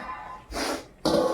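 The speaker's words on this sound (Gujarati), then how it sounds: "શરદી ખાંસી બહુ થઈ ગઈ મને તો." A person with a cold coughs twice close to the microphone, two short harsh bursts about half a second apart in a quiet kitchen.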